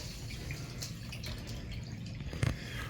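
Water running from drain pipes under pressure into a flooded basement sump room: a steady, fairly quiet trickling and splashing flow with a few small drips, no voices.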